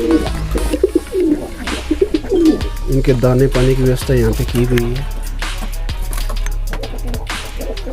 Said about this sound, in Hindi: ये गौशाला धाम में स्थित कबूतर खाना है जहाँ पे सफ़ेद कबूतर भी पाए जाते हैं